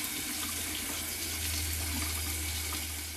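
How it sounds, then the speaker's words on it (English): Tap water running into a sink while a face is rinsed after shaving, a steady broadband rushing splash heard close and continuous throughout, with no voices. "Let's splash off, rinse off"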